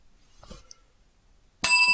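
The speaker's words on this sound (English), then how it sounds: "Stop the bell!" A bicycle-style bell rings once with a bright, sustained metallic ding, loud and near, after a faint scuffle and near-silence, with no voices.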